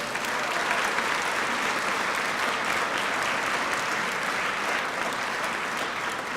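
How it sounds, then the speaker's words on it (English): Gala audience in Baltimore breaks into sustained, even applause from a large crowd, dense clapping that continues at full strength throughout. "So give him a big round of applause."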